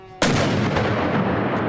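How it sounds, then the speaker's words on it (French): A MythBusters cannon loaded with a double dose of black powder fires once, a sudden loud, close blast followed by a long, dense rumble that fades slowly. "il double la dose de poudre noire. Le canon est chargé!"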